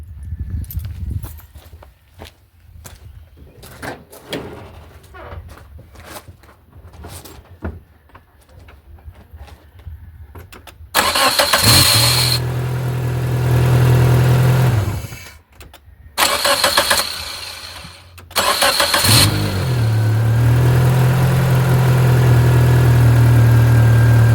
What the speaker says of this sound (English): So let's see how this battery starts the car